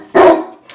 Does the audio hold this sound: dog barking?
yes